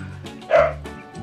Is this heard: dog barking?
yes